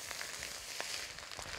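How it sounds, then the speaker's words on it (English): Quiet, steady sizzling of rice stir frying in a hot wok, with soft scraping stir strokes every so often. "You want to continue stir frying that until it gets dry."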